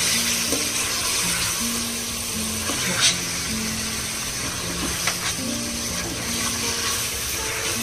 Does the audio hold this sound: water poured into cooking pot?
yes